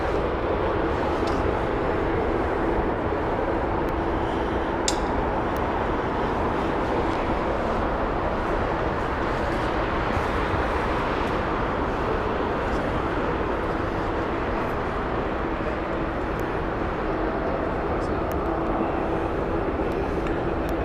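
A jet airliner passes at Heathrow Airport as a steady, loud, broadband roar that holds throughout without fading, with no talk over it.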